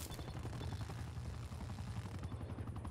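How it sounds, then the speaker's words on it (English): A helicopter in the video game Black Ops Cold War gives a dense, continuous rotor thrum mixed with bursts of gunfire in a loud, busy battle soundscape. "I need that chopper, dude."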